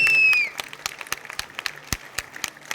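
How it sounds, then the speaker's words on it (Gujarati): An audience at a tribal students' drama event claps for the young performers: scattered, fairly sparse hand claps close by, following a short tone at the start. "જોરદાર તાળીઓ થઈ જાય યુવાનો માટે."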